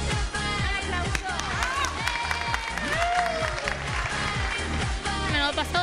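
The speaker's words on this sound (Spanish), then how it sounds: "¡Un aplauso!" A Spanish TV studio audience claps and cheers over loud, rhythmic music with a pounding beat. The crowd noise runs continuously under the music throughout.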